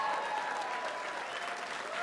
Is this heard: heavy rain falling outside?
no